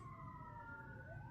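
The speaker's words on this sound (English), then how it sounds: "There's a siren going on outside." A faint fire engine siren wails in the distance outside, its tone sliding steadily up and down behind a low rumble of traffic.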